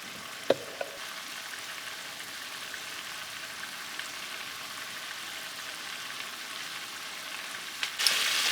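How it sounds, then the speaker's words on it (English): Sauce boiling down hard over high heat, a steady, moderate bubbling hiss with a couple of faint clicks and a brief louder burst at the end. "we're going to boil this down really quick over a high heat until it becomes a little bit syrupy"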